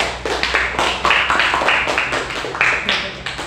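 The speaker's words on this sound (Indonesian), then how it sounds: "Kita beri aplaus dulu untuk kelompok 4" A classroom of students claps for a presenting student group, dense overlapping handclaps filling the room at a steady, lively level throughout.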